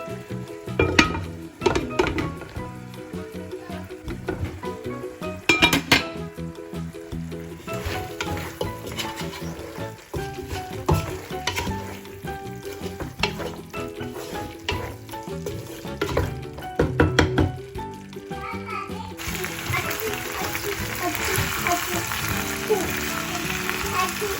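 Previously cooked meat being reheated in a pan, with loud close sizzling and frying and repeated scraping stirs of a utensil against the pan throughout.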